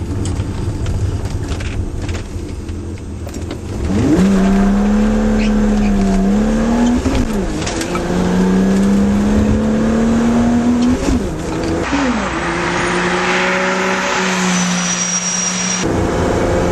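A BMW fitted with a cold air intake accelerates while merging, its engine note climbing and dropping through gear changes with a loud, rising whine over road and wind noise.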